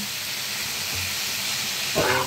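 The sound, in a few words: frying in a pan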